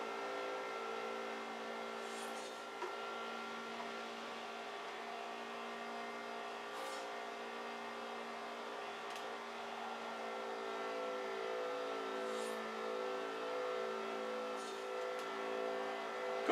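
A car engine held at full throttle while racing in the video game Forza Horizon 4: a steady, droning, high-revving tone with faint gear shifts, continuous and fairly quiet.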